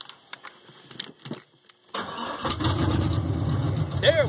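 A Chevy engine in a boxy older car cranks briefly after the fuel pump was primed, then catches and runs steadily at a rough idle, fairly close and loud. A voice is heard over the running engine near the end.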